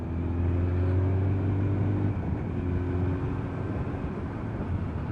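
A Suzuki GSX 1400 motorcycle is ridden on the road, its engine holding a steady low droning hum mixed with heavy wind rush throughout.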